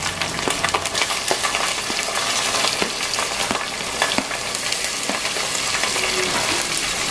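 Tomatoes and ginger paste sizzle steadily in a hot pan while being mixed, a dense continuous crackle with scattered sharper pops and scraping of the spoon throughout.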